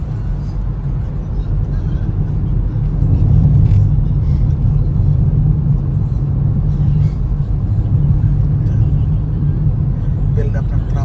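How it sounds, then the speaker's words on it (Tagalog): Road traffic building up near SM Pampanga and Robinson in Pampanga, a dense continuous low rumble of car and bus engines heard from close by, with a steady drone and no clear individual pass-bys. "Build up ng traffic."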